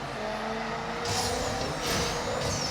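A race car launches hard off the line in the video game NFS No Limits, its engine roaring steadily with rising whooshes as it accelerates, loud and close with no talk.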